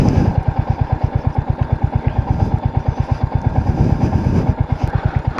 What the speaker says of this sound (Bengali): এই প্রথম রয়্যাল এনফিল্ড চালাচ্ছি